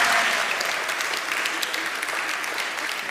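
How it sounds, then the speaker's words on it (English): A congregation at an Erev Shabbat service gives a round of applause, many hands clapping in a dense, continuous wash that stays fairly even and slowly eases throughout. "you can give them a round of applause"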